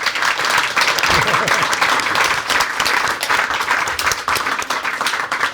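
Sustained applause from an audience at a healthcare event, a dense and steady wash of many hands clapping at full volume throughout, with no gaps.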